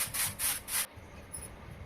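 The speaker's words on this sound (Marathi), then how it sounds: "बाहेरचं झाडून बिळून वगैरे टाकलं" Stiff broom bristles scrape in three loud rhythmic strokes across an outdoor front yard beside a road, then fall quiet to faint background hiss.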